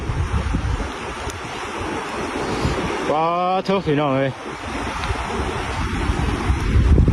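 Swollen, high water rushes and flows continuously at a reservoir, a broad roaring wash mixed with wind buffeting the microphone, while someone speaks briefly partway through.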